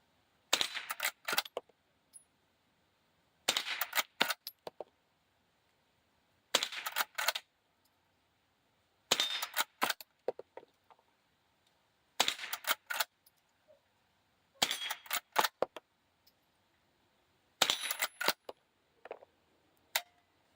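A Marlin 39A .22 LR lever-action rifle is worked repeatedly, giving seven evenly spaced bursts of sharp metallic clacks and clicks, each a quick cluster, separated by quiet pauses.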